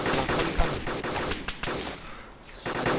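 Rapid, dense gunfire from the video game Arma 2, with loud overlapping shots and bursts filling all three seconds and no voices.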